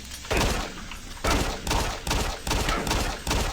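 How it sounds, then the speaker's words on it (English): Shotgun blasts in Doom 3, around six loud booming shots at irregular intervals, each with a sharp attack and rumbling tail that overlaps the next, heard without speech. "he's shooting us with a shotgun"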